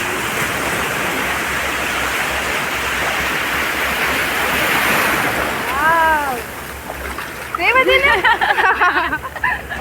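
Rough sea waves surge steadily onto the shore at Somnath, a constant broad rush with splashes, while people talk and shout over it close by.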